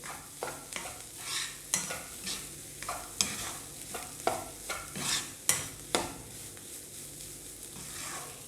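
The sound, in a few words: stirring egg burji in a pan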